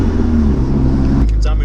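Vauxhall Astra VXR driving on a private road, a steady loud low engine drone with road noise that shifts near the end as the sound changes abruptly.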